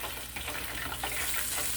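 Fish deep frying in hot grease makes a dense, steady crackling sizzle with bubbling pops throughout, close and continuous with no voices.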